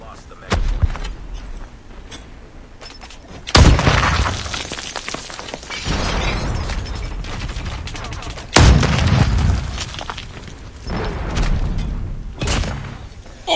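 Two heavy booming blasts from a cryo bomb in a mobile car combat game, each a sudden loud burst with a rumbling tail, spaced several seconds apart over ongoing engine and game noise.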